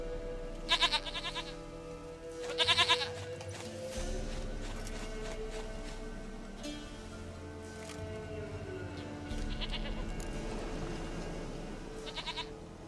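Goats bleat in The Witcher 3, several loud, close, quavering calls spaced through the scene over low game ambience and music.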